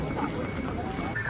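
Horses walk on the Yamunotri pilgrimage trail, their hooves clopping briefly amid a busy crowd of voices.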